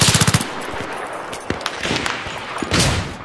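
Bursts of MP7 submachine gun fire in the video game Battlefield 3, a rapid rattling volley up front followed by scattered loud shots and cracks, with no talking.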